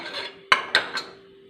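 Three sharp metallic clinks ring out close by as cooked Onam dish food is scooped from a pressure cooker into a clay pot, each knock clear and separate over a steady low hum.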